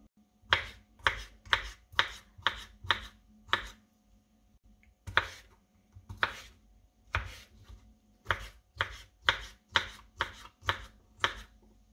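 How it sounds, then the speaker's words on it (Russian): Sharp knife dices pickled cucumbers on a cutting board in quick rhythmic bursts, a steady run of crisp strokes, a brief pause, then another even run of dicing. "Берем соленые огурцы, у меня 5 штук, и нарезаем кубиком."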